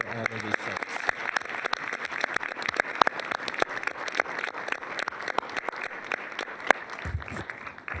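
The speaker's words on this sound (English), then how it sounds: "please join me in giving a grand applause for all of these folks." An audience at a Regional Transportation Commission meeting applauds in a steady patter of clapping hands that carries on evenly throughout, with a brief murmur of voices at the start and near the end.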